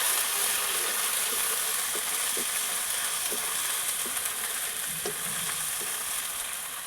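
Garlic paste frying with panch phoron spices in hot oil, a constant loud hissing sizzle with occasional soft stirring knocks, no voices.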